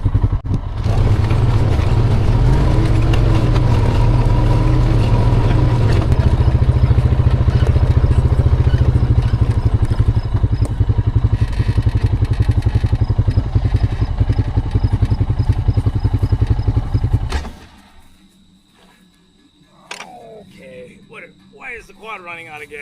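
A quad ATV engine runs loudly and close with a steady chugging idle, then cuts out near the end, leaving quiet with a few small sounds.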